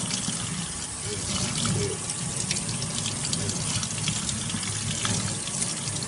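Water runs steadily from a tap into a bathtub while carbon-coated engine parts are washed, a constant close splashing rush with faint scrubbing and speech underneath.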